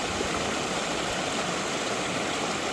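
Drainage water welling up from the ground at a villa, heard as a loud, continuous rushing flow like a stream, steady throughout with no voices.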